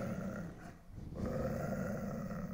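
A dog with ears pinned back and bared teeth gives a low, continuous growl, close and steady, easing briefly midway before rumbling on. No one speaks.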